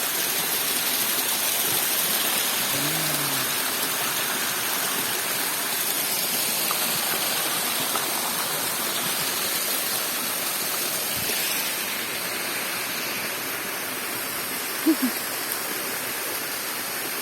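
A steady rush of falling water from a small waterfall with low flow runs continuously, even and moderately loud, with a brief faint chirp or two over it.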